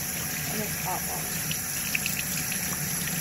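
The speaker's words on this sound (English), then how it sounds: "Yes, and we use straight hot water for this." Hot tap water gushes steadily over knives being rinsed in a dye penetration test, a continuous splashing flow with a faint voice murmuring in the background.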